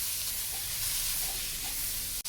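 Grated radish frying in a pan for paratha, a steady soft sizzle and hiss throughout, fairly quiet and even, with a single sharp click near the end.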